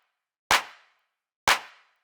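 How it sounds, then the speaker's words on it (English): Two separate layered claps with a bright, white-noise-like burst, each trailing off in a short reverb tail. They are crisp and close, with nothing else around them. "It's kind of a white noise-esque clap with a little bit of reverb."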